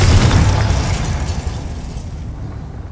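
A Confringo spell explosion in Hogwarts Legacy: a loud, close blast with a crackling, shattering burst that rumbles and fades out over about three seconds.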